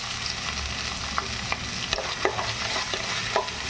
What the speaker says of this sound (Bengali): দিয়ে আমি একটু নাড়িয়ে ভেজে নেব